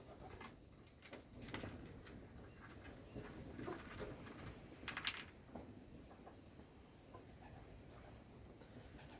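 Wood pigeon chicks being rescued and hand-fed in a village give soft cooing calls over a steady low rumble, with a few brief brighter squeaks in the middle and no talk.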